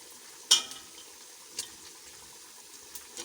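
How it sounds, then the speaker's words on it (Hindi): Mutton frying in a pot with ginger garlic paste, a low quiet sizzle broken by a few sharp clanks and scrapes of stirring, close but soft. "मटन को हम मैक्सिमम 15 मिनट तक भून लेंगे। अब हम इसमें अदरक लहसुन का पेस्ट ऐड करेंगे"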